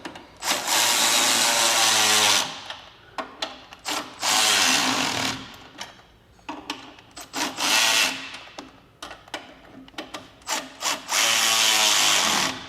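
A power tool tightens bolts on a 3-inch lift kit for a 1990-98 Mitsubishi Minicab truck. It comes in loud, repeated bursts, some long whirring runs and some short rapid blips, with pauses between them.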